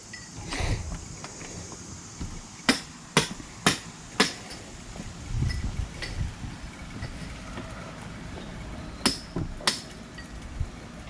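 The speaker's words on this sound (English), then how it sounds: "Is it breaking up with that hammer?" A hammer striking a house foundation to break it up, a run of sharp, separate metallic blows, first in a cluster of four and then two more later, over low background rumble.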